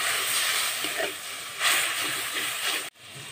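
Ginger-garlic spice paste with chilli, cumin and coriander powder hisses and sizzles steadily in a pan just after a little water is added, a loud continuous close-up frying sound that cuts off abruptly near the end.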